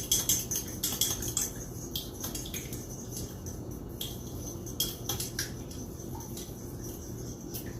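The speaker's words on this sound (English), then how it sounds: "To beat the egg, we need a fork. Poke the egg and give it a fast stir." A fork beats an egg in a bowl for French toast, fast metallic clinking and tapping against the dish that is loudest at first and then steadier, with no voices.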